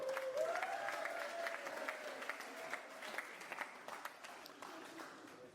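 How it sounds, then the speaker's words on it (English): Wedding reception guests give another round of applause for Jeffrey after his speech, a steady wash of clapping sustained throughout, with a voice or tone gliding faintly over it near the start. "one more big round of applause for Jeffrey"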